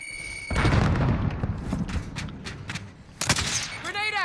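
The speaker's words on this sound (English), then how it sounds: "Grenade out!" Frag grenade going off in Call of Duty: Modern Warfare, a dull booming burst followed by scattered gunfire and battle noise, fairly distant, with voices speaking.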